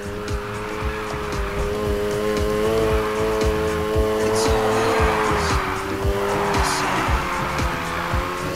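A car drifting in the Need for Speed Heat racing game, with a steady loud engine drone and long, continuous tire squeal running through the whole stretch, and faint voice-like sound in the background.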